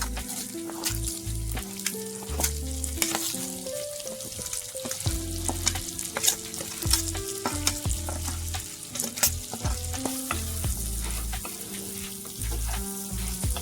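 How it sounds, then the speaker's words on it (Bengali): Rice frying in a pan for Bengali Basanti Polao, sizzling steadily while a utensil stirs it, with repeated scraping and clinking knocks against the pan, close up, and no talking. "এবারে চালগুলোকে হালকা ফ্রাই করে নেব, আমি কষে নেব।"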